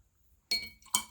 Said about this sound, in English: I'm going to rinse out the brush